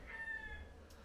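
A single cockerel crows once at a distance in Boracay in the Philippines, a short, faint call that fades out within about a second.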